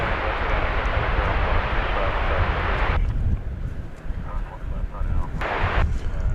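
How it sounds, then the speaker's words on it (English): An American Airlines Airbus A319 jet airliner takes off from DFW Airport, its loud broadband engine roar holding steady, briefly easing, then swelling again, with wind buffeting the microphone. "It's American Flight 1803 off to McAllen, Texas, an Airbus A319"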